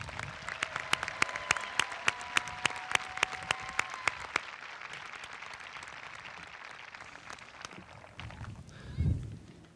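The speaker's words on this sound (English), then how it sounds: "Can we all put our hands together for the Cary-Grove staff joining us today?" A crowd at the Cary-Grove High School Class of 2023 graduation applauds the school staff. The clapping is dense and loud at first with rhythmic beats, then fades to a thinner patter and dies out.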